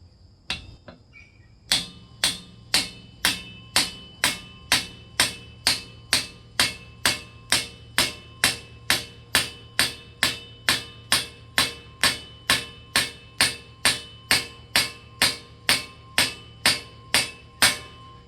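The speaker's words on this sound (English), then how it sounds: "I'm going to drive the top one in by hand" Steady, evenly spaced hammer blows driving a spindle bushing into a Massey Ferguson 135 tractor, about two per second, sharp and close, ringing metal through a long run with no talking.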